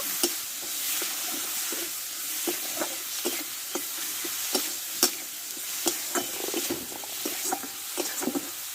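Coriander and chili powder stir-fried in a pan, loud close sizzling with a quick, regular series of spoon scrapes and taps against the pan.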